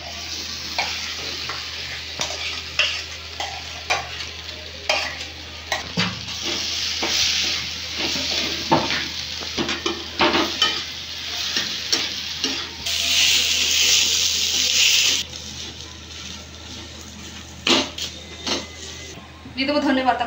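Boiled potatoes are stirred and frying with ground spices in a pan, giving a steady sizzle with scraping and stirring strokes throughout and a brief louder hiss partway through.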